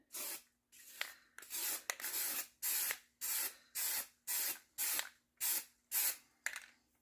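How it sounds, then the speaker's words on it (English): Repeated bursts of an aerosol spray can spraying furniture primer, about a dozen short hissing sprays in a steady rhythm with brief pauses between. "And then I'm going to spray this."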